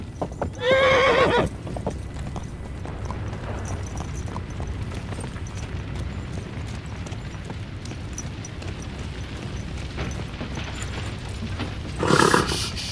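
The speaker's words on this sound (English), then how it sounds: "Easy, good horse." Steady hoofbeats of a galloping horse in a video game run throughout, with a horse whinnying loudly near the start and again at the end.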